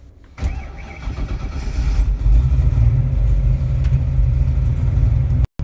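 A car's 408 Cleveland V8 engine cranks, fires up loudly, and settles into a deep, rumbling idle, close by and steady.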